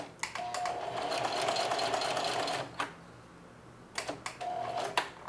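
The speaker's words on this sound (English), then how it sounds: "This is really thick, so I'm going slow. And now I'm going to back stitch the whole length." Sewing machine back stitching slowly through a thick apron strap, a rapid mechanical chatter running for several seconds, then pausing and restarting in short bursts, close and clear.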